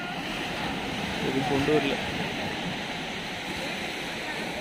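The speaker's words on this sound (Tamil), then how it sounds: "தெக்குறிச்சின்னு ஒரு அழகான பீச்சுக்கு தான் நம்ம வந்திருக்கோம்" Sea waves break at Thekkurichi beach near Kanyakumari in a steady, loud surf roar with some wind buffeting the microphone, while someone speaks briefly over it.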